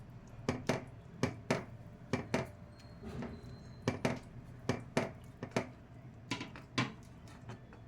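A spoon strikes and scrapes a pan over and over while a gram flour mixture with garlic is stirred over a low flame, giving quiet, evenly spaced knocks and clinks with no speech.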